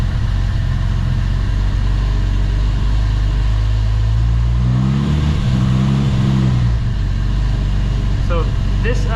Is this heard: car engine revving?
yes